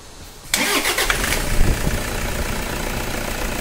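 A Toyota Innova with a power steering problem cranks and fires up abruptly, then settles into a steady, close mid-pitched idle.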